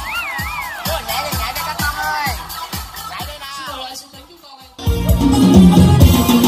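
Applause breaks out at a Co Tu wedding celebration in Da Nang for a male singer: a voice over music fades, then a loud, dense wash of clapping and crowd noise rises near the end.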